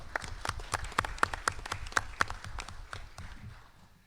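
A small group at a municipal council meeting gives a short round of sparse, distinct hand claps that taper off after a few seconds.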